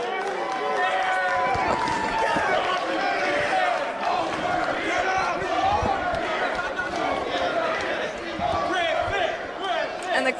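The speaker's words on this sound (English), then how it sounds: "And the crowd calling for it across" Wrestling crowd at a CZW Cage of Death match, Richard Adonis versus Griffin McCoy, roars and chants in a loud, dense, steady wall of many voices, with no clear break across the whole stretch.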